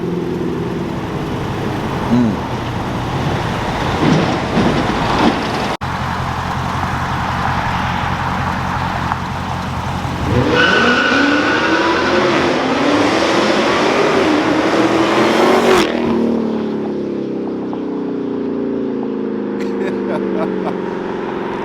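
A Dodge Hellcat engine roars and revs loudly up close, rising in pitch through a sustained acceleration, with outdoor noise and a brief voice earlier.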